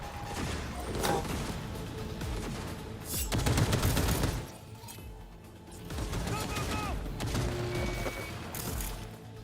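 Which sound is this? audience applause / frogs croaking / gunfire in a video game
gunfire in a video game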